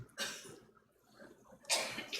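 Two separate coughs during a church service, the second louder, with a quiet pause between them and no speech.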